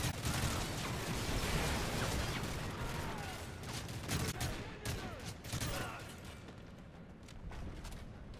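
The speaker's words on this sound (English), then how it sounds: "I don't know where I was shooting for half of those" Dense gunfire in the Modern Warfare 3 campaign, a sustained fusillade of rapid shots and booms filling the whole stretch, loud and close with chaotic bursts throughout.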